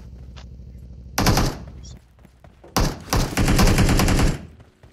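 Bursts of automatic gunfire in PUBG Mobile, two loud sharp volleys separated by a brief lull, the second longer and sustained, ringing close against a quieter game background.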